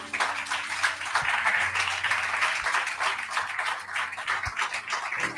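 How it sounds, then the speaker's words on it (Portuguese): A church congregation at a prophetic service applauds together, producing a sustained wash of many hands clapping that holds steady for several seconds before easing slightly. "Dê um aplauso a Jesus."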